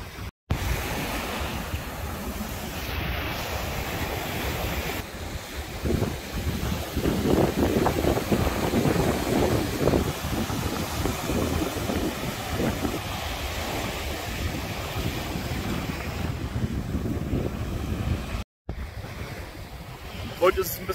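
Wind and surf on a beach at Djerba, Tunisia: a continuous broad roar of breaking waves mixed with gusty wind buffeting the microphone, steady and fairly loud with no talking.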